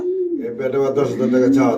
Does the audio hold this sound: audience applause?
no